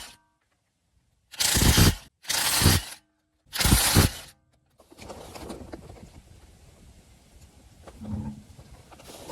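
A tool loosens the 21 mm factory lug nuts on a Nissan wheel in three loud, sharp, close bursts separated by short silences. Quieter metallic clatter and handling noise follow.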